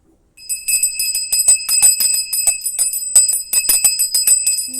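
A small hand bell rung rapidly during a home puja, a bright continuous jingle of quick strokes lasting several seconds, loud and close with no voices.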